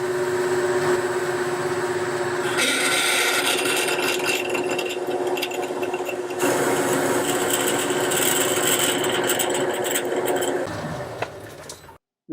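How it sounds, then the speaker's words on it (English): A 6mm drill bores a hole through a bush made for a 10mm optical centre punch, with a steady grinding whine that runs close and continuous for about eleven seconds before stopping. "So I'll drill through first with a 6mm drill."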